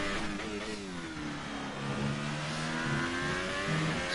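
A McLaren race car engine in a racing video game drones and revs through gear changes, pitch falling on downshifts and climbing again, a steady mid-loud mechanical whine with no voices.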